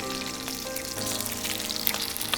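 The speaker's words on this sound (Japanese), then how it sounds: "必ず魚は皮目から焼くことです。" Sea bream fillet cured in salt koji sizzles skin side down in a hot pan over medium-low heat, a steady close crackle and spatter with scattered sharper pops.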